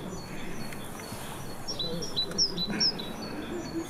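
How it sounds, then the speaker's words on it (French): Birdsong, including a great tit, played outdoors: thin, high chirps and short whistled phrases over a soft, noisy background, fairly faint and scattered. "Je vais vous faire écouter quelques chants d'oiseaux"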